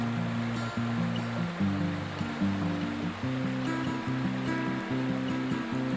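Steady rushing water of a river in Ireland flows continuously, with a fairly loud, even wash and a faint tonal hum underneath.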